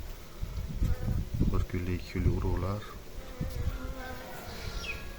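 Carniolan honeybees buzz steadily over an open hive frame during spring hive work, a close, continuous drone running beneath someone speaking throughout.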